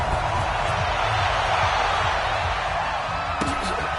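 A stadium crowd roars steadily at a video game American football match, Washington Redskins hosting the New York Giants, a dense continuous wash of cheering with no break and a brief clap or whoop near the end.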